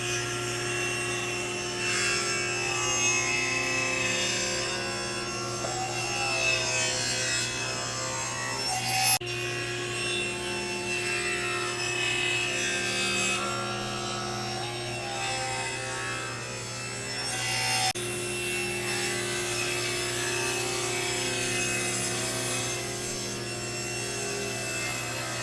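Wood being ripped into 1.5 inch strips for an end grain cutting board, with oak among the pieces. A steady, loud power-saw drone runs continuously, with slight shifts in pitch as each cut progresses.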